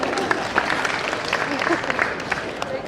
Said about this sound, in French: Vous pouvez applaudir le cheval.